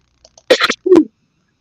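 A single sharp sneeze, loud and close, with a short indrawn breath before it, then quiet.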